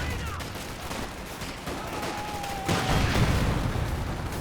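Riflemen trade fire in a real-time strategy video game battle as dense crackling gunfire and rumbling booms run throughout, with a louder burst of heavy fire near the end.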